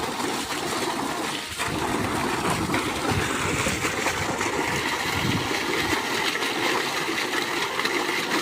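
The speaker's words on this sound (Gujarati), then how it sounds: "પાણી આવી ગયું।" Water gushes steadily from a borewell pump on a Gujarati farm, a loud, continuous broadband rush that stays near and unbroken throughout.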